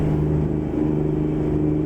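A classic Mack engine in a Mack R truck in American Truck Simulator drones loud and close, a steady low rumbling hum with a strong engine tone and no speech.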